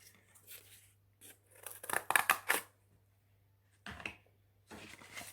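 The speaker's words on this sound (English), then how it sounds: "So use your scissors and cut into the cardboard." Scissors snip into cardboard during a toddler soft-sculpture craft activity, a few close, crisp cutting crunches clustered in short bursts, separated by quiet pauses.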